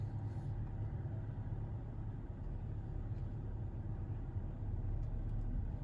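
A Volkswagen Tiguan MK2 being driven, heard from the cabin as a low, steady engine and road rumble at a moderate, even level, with no speech.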